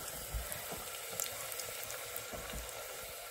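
Pickles frying in a pot of hot oil, four or five at a time, give off a steady low bubbling sizzle with soft popping all the way through.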